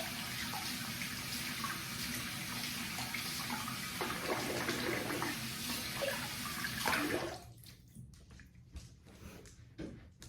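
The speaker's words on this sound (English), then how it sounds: "Let me rinse, wet the face again." Tap water runs steadily and close by while rinsing and wetting the face at a shaving sink, then cuts off around seven seconds, leaving faint drips and splashes.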